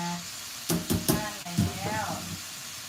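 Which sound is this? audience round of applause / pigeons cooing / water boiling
water boiling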